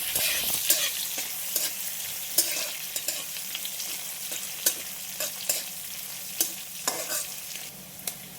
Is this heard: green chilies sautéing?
yes